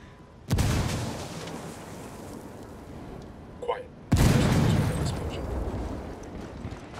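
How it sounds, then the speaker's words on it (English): A frag grenade explodes in the video game Ghost Recon Wildlands, heard as two loud, deep blasts a few seconds apart, each followed by a long rumbling decay, with a brief faint sound between them. "Frag out. Get some. Hear that explosion?"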